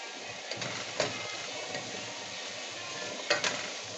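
Chopped onion sizzles in a pan while being stirred, a steady soft frying hiss with a few light scraping clicks from the stirring, fairly quiet and close.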